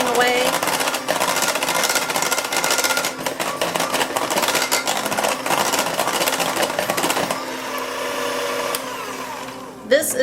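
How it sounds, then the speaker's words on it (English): Electric stand mixer kneading pear kuchen dough into a shiny, stringy mass, a loud steady whirring motor hum that runs continuously before dropping away near the end. "my mixer back on"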